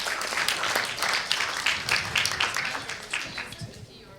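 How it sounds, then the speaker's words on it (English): An audience at a science communication competition gives the contestants a brief burst of lively clapping that swells, then tapers off over about four seconds, with faint voices mixed in. "So, another round of applause."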